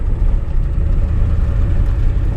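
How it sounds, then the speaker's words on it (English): A pickup truck with its exhaust cut off runs loud, a deep, steady low rumble close by with no talking. "a little loud because the exhaust is cut off of it"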